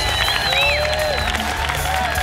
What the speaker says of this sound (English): A big round of applause for the greedy guy